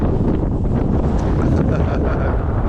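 Strong wind gusts buffet the microphone on a hilltop coastal path overlooking the Bristol Channel at Clevedon, a loud continuous low roar and rumble with no talk.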